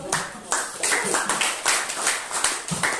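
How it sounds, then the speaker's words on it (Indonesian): Group of students clapping together in an Indonesian classroom, a dense, steady patter of many hands lasting a few seconds, fairly loud and close, with some voices mixed in. "Tepuk tangan dulu buat"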